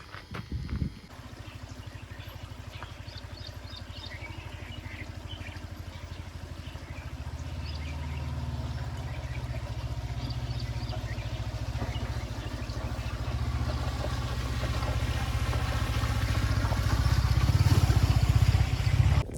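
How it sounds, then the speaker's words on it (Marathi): Cooling fans on a hot Yamaha R15 V4 motorcycle engine whir steadily, with a low engine hum beneath them that builds gradually in loudness over the whole stretch. "फॅन चालू झाले आहेत इंजिनचे"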